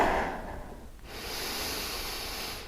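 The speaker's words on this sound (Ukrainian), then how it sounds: "Робимо повний вдих." A long, deep breath drawn in through the nose during yoga relaxation in savasana, close and steady with a breathy hiss, with no talking.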